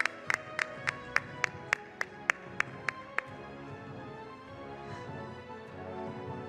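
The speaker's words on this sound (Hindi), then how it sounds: "जोरदार तालियों से एक बार फिर से अभिनंदन।" Audience at the TV9 Satta Sammelan 2024 stage event clapping in brisk unison, about ten sharp, evenly spaced claps that then dissolve into a softer, scattered applause murmur.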